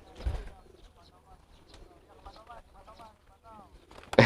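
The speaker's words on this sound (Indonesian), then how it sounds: "Nih merpati posnya." Carrier pigeons cooing in soft, repeated low warbling phrases at moderate distance, with handling thumps near the start and a sharp loud rustle at the end; a person talks faintly at times.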